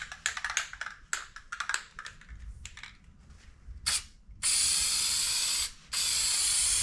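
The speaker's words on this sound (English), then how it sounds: "I'm gonna go ahead, spray this first layer on" A few rattling clicks, then long, loud hissing blasts of spray glue from an aerosol can onto a car headliner, with a brief pause between two sustained bursts.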